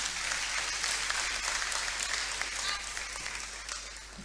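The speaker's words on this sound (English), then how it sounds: "Let's appreciate him with a clap." An audience at a student conference clapping for an invited guest, Dr. Victor Asare Bampo, a dense sustained round of applause that fades slightly toward the end.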